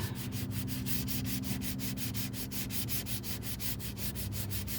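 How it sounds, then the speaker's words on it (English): Hand sanding along the edges of a part with worn sandpaper before a rattle-can paint job: a steady, close rhythm of rasping back-and-forth strokes, roughly five per second, over a constant low hum, with no talking. "just go around the edges and clean those up where the sander has difficulty getting in there"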